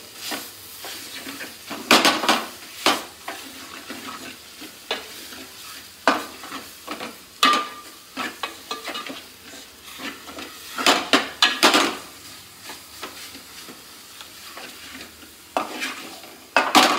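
A spoon scrapes and clinks against a pan while stirring black masala paste for a spicy crab dish, repeated sharp metallic strokes at an uneven rhythm over a soft sizzle, close by with no talking.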